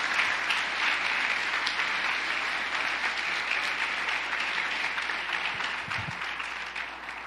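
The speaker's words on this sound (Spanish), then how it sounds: "Aplaude al Rey en esta mañana." A church congregation claps continuously through a Sunday morning service, a dense, steady applause that fades slightly near the end, with no talking over it.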